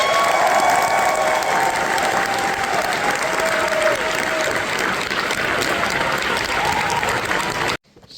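A theater audience applauds continuously to welcome director Brian Henson at a Muppet Treasure Island Q&A, a dense steady clapping that cuts off abruptly near the end.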